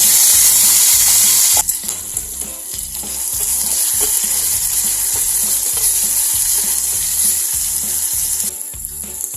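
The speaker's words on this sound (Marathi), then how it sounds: "आता आपले जिले मोहरी तडतडके आहेत" Cumin and mustard seeds with a few curry leaves crackle and sizzle steadily in hot oil, a dense frying hiss with sharp pops repeating in a fairly regular rhythm, close and loud, with no voices.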